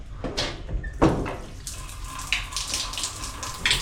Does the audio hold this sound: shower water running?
yes